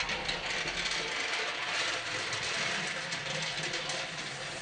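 Toilet flushing with marbles and golf balls in the bowl, a steady close rush of water with rattling, churning noise throughout, loud and continuous.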